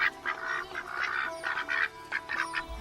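Ducks in a children's story quack in quick nasal bursts, several calls in a row at moderate distance, with no talk over them.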